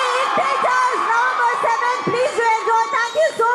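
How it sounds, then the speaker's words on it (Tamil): An audience at a Tamil stage event cheers and whoops in a dense, continuous roar, with high shouts rising above the crowd noise for the whole stretch. "ஒரு பலத்த கைத்தட்டல் கொடுத்தலாம்"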